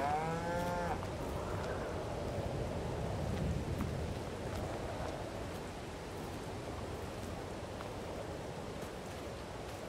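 A cow in the video game Farming Simulator lets out one short moo at the start, followed by a long steady stretch of ambient noise like wind, with no talk.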